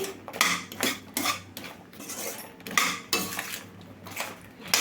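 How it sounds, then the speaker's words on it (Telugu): Makhana lotus seeds stirred with a utensil in melted butter in a metal pan for caramel makhana, giving repeated scraping and clinking strokes in an uneven rhythm, close and fairly loud, with no talking. "తామర గింజలు మొత్తాన్ని అయితే వేసేసుకుందాము. వేసుకున్న తర్వాత బాగా కలుపుకోవాలండి."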